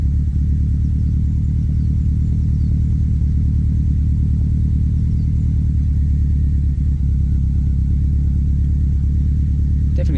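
A Subaru Impreza WRX STI with oil leaks idles after a cold start, giving a steady, even, close engine rumble that holds unchanged for about ten seconds with no talking over it.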